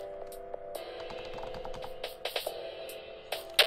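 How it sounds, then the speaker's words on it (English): Soft clicks of typing on a computer keyboard tap out at an irregular pace, close and quiet, over faint game music with a held tone. "Sorry if you can hear my keyboard."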